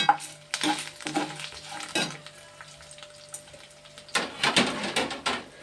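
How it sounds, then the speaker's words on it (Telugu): Tempering spices crackle and sizzle in a pan for gongura chutney, with close stirring and clinks of utensils in bursts, and a louder flurry of spattering near the end. "పోపులు వేసేస్తున్నాను అన్నీని దీంట్లోని."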